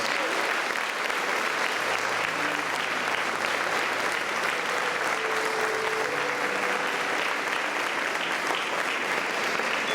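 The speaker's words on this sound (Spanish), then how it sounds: "Vamos a darles un fuerte aplauso a todos ustedes." A congregation claps loudly during a church gathering with a visiting pastor, making a full, continuous wall of applause that holds evenly for ten seconds, with faint tonal sounds underneath.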